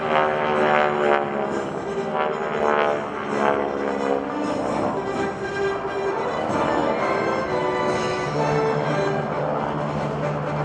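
GEICO Skytypers propeller stunt planes make a low attack pass at a military base airshow, giving a loud, steady engine drone with a strong throbbing propeller tone that holds throughout without a break.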